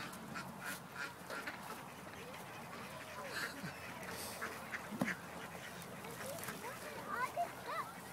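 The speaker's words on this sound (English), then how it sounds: "Look at the ducks." Ducks quack intermittently near a pond, mostly faint and distant, beneath frequent nearby talking and steady outdoor background noise.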